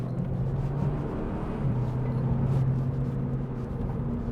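A 360bhp Cupra 290 on 265 tyres accelerates hard, its engine giving a steady, loud droning hum from inside the cabin; the engine note shifts and rises partway through, with no talking.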